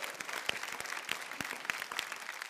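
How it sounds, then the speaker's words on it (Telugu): A studio audience on a reality TV show applauds in a continuous patter of many hands clapping at a moderate distance, with faint voices underneath. "చప్పట్లు."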